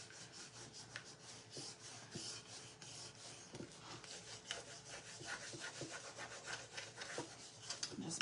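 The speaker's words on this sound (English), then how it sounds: "with this new burnishing tool, I burnish even faster than I did with the other one" Steady rubbing strokes from a new burnishing tool being worked by hand, close and fairly quiet, in short repeated passes of uneven rhythm with no talk.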